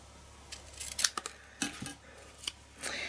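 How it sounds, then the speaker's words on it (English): Scissors snip the edge off a sheet of paper with a handful of short, crisp cuts spread over a few seconds, close and quiet against a soft background hum. "Hold on to that so I can cut the edge off."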